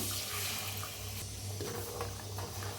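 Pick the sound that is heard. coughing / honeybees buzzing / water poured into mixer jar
water poured into mixer jar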